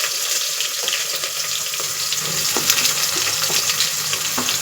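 Whole spices like cardamom, cinnamon, cloves and caraway sizzle with onions in hot oil, a steady close frying hiss with occasional stirring clinks, no voices.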